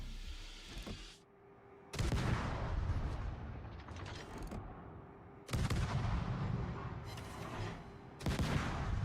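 Heavy naval guns boom in World of Warships, each salvo a loud deep blast with a long rolling tail, three or four volleys spaced a few seconds apart with mechanical rumble between.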